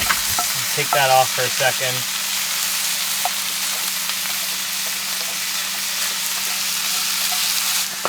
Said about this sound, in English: She's splattering hot oil.